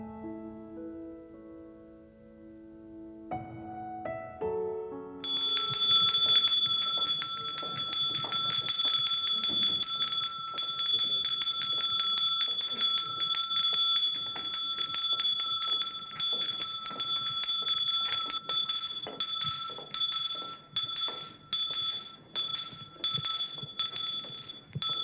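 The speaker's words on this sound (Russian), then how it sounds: "Всякий раз колокольчик призывает встретиться вновь всех супругов после непродолжительного уединения." A small bell rings clearly and keeps ringing with a bright, sustained metallic tone and shimmering overtones, preceded by a few soft melodic notes, fading in pulses toward the end.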